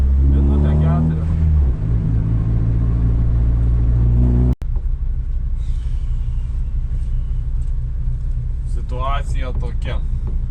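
A race car in a street race in Alytus, a steady loud engine rumble that briefly cuts out and returns, with someone talking over it.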